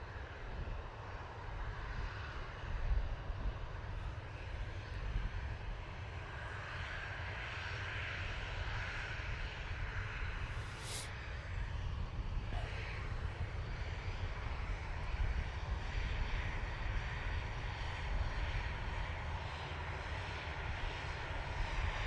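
Ryanair Boeing 737-800 jet heading for Faro: a fairly faint, distant engine rumble that persists evenly throughout, with a brief high hiss partway through and no voices.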